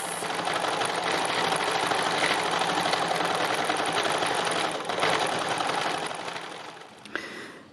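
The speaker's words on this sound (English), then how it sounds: "I'm just going to do a little bit of stitching" Sewing machine stitching orange thread into fabric runs in a fast, steady mechanical rattle, loud and close, with a short pause near the middle and a click as it stops at the end.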